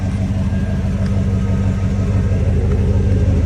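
A truck engine runs steadily nearby, giving a constant low rumble with an even hum and no change in pitch.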